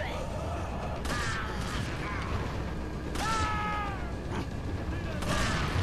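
Gunshots in the Resident Evil 4 video game: three sharp blasts spaced about two seconds apart, each with a ringing tail, over a dense, loud, constant game backdrop.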